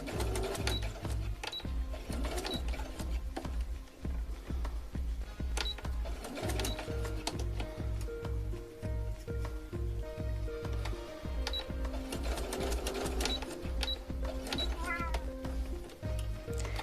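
A sewing machine runs back stitches on doll sock fabric, with rapid mechanical stitching bursts that pause and restart steadily under a faint tonal background.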